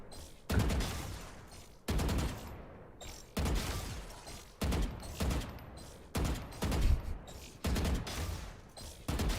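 Gunfire in Valorant, delivered as repeated bursts of loud rapid shots with short pauses between them, each burst ending in a ringing tail.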